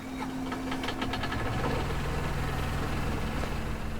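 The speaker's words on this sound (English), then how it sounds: "Maybe we'll leave the engine running." Train engine idling in The Vanishing of Ethan Carter, a steady low mechanical rumble with a faint knocking pulse, continuous and fairly loud with no voices over it.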